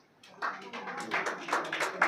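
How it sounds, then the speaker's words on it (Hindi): Audience clapping at a Republic Day celebration and prize ceremony in honour of Asna Ansari, scattered hand claps building from quiet into a moderate, uneven round of applause. "Right, so big round of applaud for Ansari Ashana."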